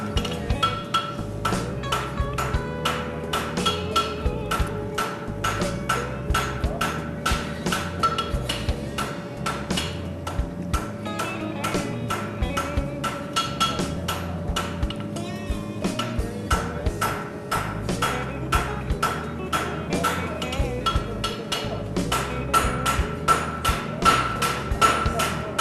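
Hammer blows forge caulking on a horseshoe at a farrier's anvil, with a sledgehammer holding the metal in place. Dense, rapid ringing strikes continue throughout over a steady background.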